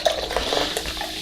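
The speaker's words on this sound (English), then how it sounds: "You don't need the whole can for this one, so just pour it until it reaches 12 ounces" Coca-Cola Starlight soda poured from a can into a glass, a brief, close, continuous liquid stream with fizzy hiss and faint clinks, no speech.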